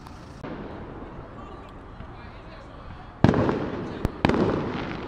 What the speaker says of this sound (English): Still fireworks going off.